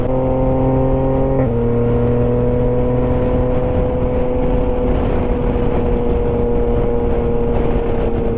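Motorcycle engine running steadily while riding on a road trip route, loaded with side cases and a top case; a continuous droning hum with stable harmonic tones that shift slightly in pitch early on, no talking over it.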